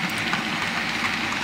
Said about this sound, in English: Here we are, we're just watching a few trains passing.